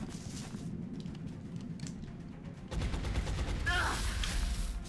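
Alien gunfire rakes a soldier in the XCOM video game, a steady clattering volley that swells louder and denser partway through, with a voice speaking under the shots.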